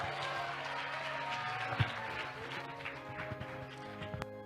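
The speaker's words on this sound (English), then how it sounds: "Clap for him." An audience at an official launch event claps in a steady, fairly faint patter, with a few sharper individual claps standing out.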